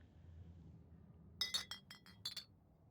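Dishware and glasses clink in the Scarlet Hollow video game, with a quiet room hum that gives way to two short bursts of bright chinking and rattling as plates, a bowl, a mug and a shot glass are handled.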